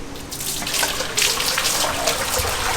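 Water from two 5-gallon buckets poured into a PVC pipe fish table aquarium, a steady rushing splash that runs the full length, loud and close, with no talking.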